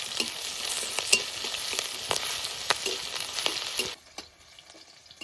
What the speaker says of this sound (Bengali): তেলের উপর দিয়ে দেবো শুকনো লঙ্কা আর দেবো আদা বাটা রসুন কাঁচা লঙ্কা পেরা এবার একটু ভালো করে ভেজে নেবো